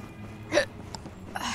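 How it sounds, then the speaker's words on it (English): A single short hiccup sounds from a person in a game scene set among flaming garbage, brief and fairly close over a low background hum. "Hiccups."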